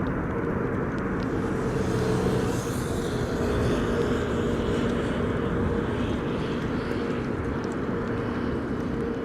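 Airliners taking off from a runway at Amsterdam Schiphol Airport on a windy day, a steady broad jet roar sustained throughout at moderate distance, mixed with wind noise and no talking.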